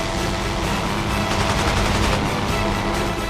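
Sustained aircraft machine gun fire in the WWI flight game Rise of Flight, a loud, dense rattle of rapid shots running continuously through the whole stretch with no pauses.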